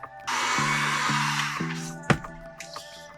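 A heat gun blows on a plastic sheet that is being shaped for a Mega Man X helmet, giving a loud, steady airy roar. A low hum steps in and out beneath it, and one sharp click comes near the end. No one speaks.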